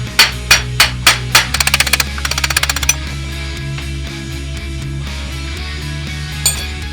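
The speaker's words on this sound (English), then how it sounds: "Place the extension bar on the end of the shaft and hit it with the hammer until the shaft comes out" Hammer striking an extension bar to drive a motorcycle swing arm shaft out: five sharp, ringing metallic blows, then a fast burst of lighter rapid taps, followed by low mechanical hum and one more faint clink.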